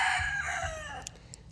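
Brief burst of chicken vocalizing nearby, a drawn-out crow-like call followed by a couple of short clucks, heard alone without talk.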